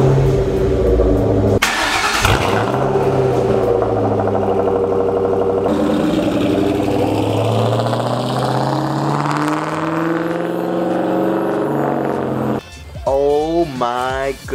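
A 2003 Ford Mustang Mach 1 V8 with a UPR off-road X-pipe exhaust starts up and revs: a deep, loud rumble rising and falling through several throttle blips, then a sharp rev near the end, close by.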